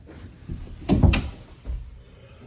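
A house door is opened and shut during a walkthrough, heard as a close cluster of knocks and a latch clunk, then a softer thump a moment later.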